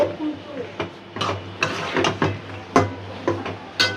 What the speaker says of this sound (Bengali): বিসমিল্লা দিয়ে দিলাম নতুন সবজি সুন্দর করে কষাই